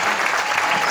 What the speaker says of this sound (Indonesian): mana tepuk tangan penuh berkahnya dari Al-Bayyinah untuk Kaila